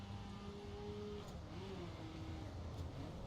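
Racing car engine in the video game The Crew taking corners at speed, a steady revving drone with slight pitch shifts as the car sweeps through turns, mid-level and without talk.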